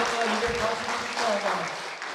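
A church congregation clapping together during a Korean worship service, a dense, continuous patter of hands in a reverberant hall with a voice speaking over it.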